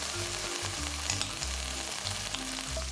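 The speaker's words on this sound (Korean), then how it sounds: "살짝 볶아주시고요" Broccoli stir-fried in a hot pan with soy sauce and oyster sauce, a steady loud sizzle with scraping stir strokes and a few clinks, no voices.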